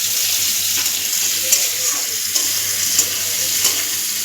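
Onions frying in a pan at home, giving a steady, close hissing sizzle with faint clinks and stirring touches over it.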